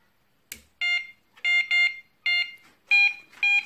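Electronic fishing bite alarm detector switched on: a click, then a run of loud, high electronic beeps in short bursts of rising and falling tones, heard alone.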